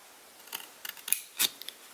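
Scissors snipping paper while making a coin envelope, several quick crisp cuts in an irregular rhythm, close and fairly quiet, no voices.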